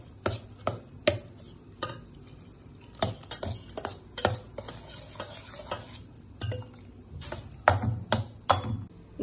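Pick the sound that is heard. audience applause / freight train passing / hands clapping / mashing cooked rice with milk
mashing cooked rice with milk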